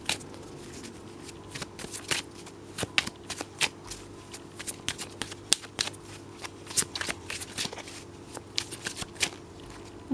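A tarot card deck being shuffled by hand at close range, a run of quick riffling and flicking bursts with brief pauses between them, with no talking.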